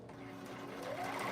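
A sewing machine runs continuously for a moment, a steady close whirring hum with a rapid mechanical patter that rises slightly as it speeds up.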